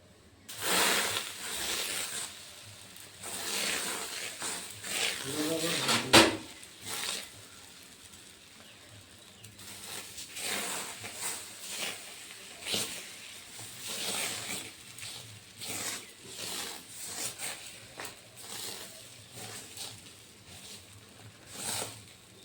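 Dosa batter poured and spread across a hot, water-sprinkled pan gives a close, soft hiss with repeated scraping swishes and gentle squishy spreading sounds that rise and fall steadily, with no talking.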